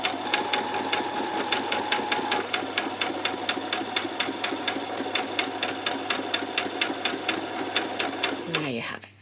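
A sewing machine runs a tacking stitch on a peasant top, its rapid needle strokes steady and close for most of the run before a brief change near the end, with a voice talking over it.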